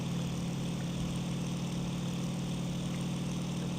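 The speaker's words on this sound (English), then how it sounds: "Let's wait for the engines to rev up." Propeller aircraft engines idle and rumble steadily aboard an aircraft carrier in the flight game IL-2 Sturmovik 1946, a loud, continuous low drone with no talk.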